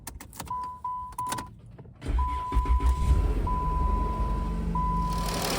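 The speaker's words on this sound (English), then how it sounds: "we're gonna go ahead and drive it" A 2014 Chrysler 200 V6 car interior: door and handling clicks with a repeating chime, then the engine runs and the car pulls away, a steady close rumble under the chime.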